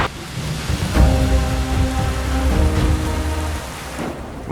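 Heavy rain pours steadily on the Serengeti savannah in a thunderstorm, a loud continuous hiss with a low rumble of thunder underneath.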